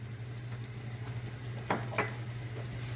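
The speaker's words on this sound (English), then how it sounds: "We're going to go ahead and put in our shallots and garlic." Shallots and garlic sizzle quietly in olive oil in a pan over medium heat, a soft, steady frying hiss broken by two brief clicks of stirring.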